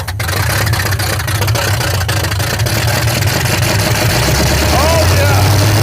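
The car engine of the Roadkill Boost Caboose runs loud and steady with a heavy low rumble throughout, while voices talk over it.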